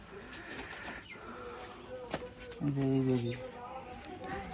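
Rajshahi Giribaj pigeons at a pigeon farm coo softly in a low, rounded rhythm, with a clear coo standing out near the end over faint background voices and outdoor noise.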